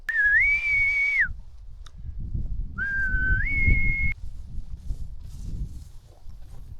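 A man whistles two long rising-and-falling calls to summon mules and horses on a farm, loud and close, with a gap between them and a rumbling, shuffling low background underneath.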